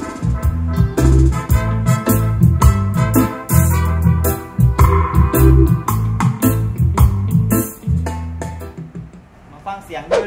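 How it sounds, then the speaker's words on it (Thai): Full music of mid and treble frequencies plays loud and continuous through a myNPE GT 4500 power mixer with built-in crossover, with busy bright upper tones over a lower rhythmic foundation. "มาฟังเสียงกลางแหลมครับ"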